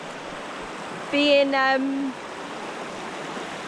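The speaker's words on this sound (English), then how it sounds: "water to be running like this, like fresh water from the mountains" Fresh mountain water runs in a river with a constant, even hiss close by, while a voice briefly speaks over it partway through.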